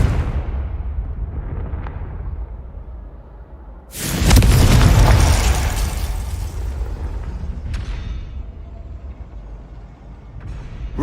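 Confringo fire spell from Hogwarts Legacy detonating as a loud, close explosion with a sudden burst that booms and roars for about two seconds, then decays into rumbling crackle over the steady game background, with a couple of small sharp ticks afterward.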